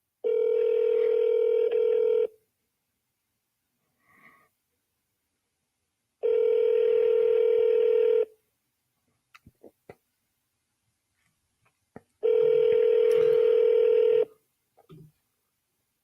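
Outgoing phone call ringing unanswered: three long, loud ringback tones about two seconds each, separated by quiet gaps with faint clicks and beeps.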